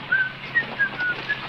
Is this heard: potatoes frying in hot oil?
no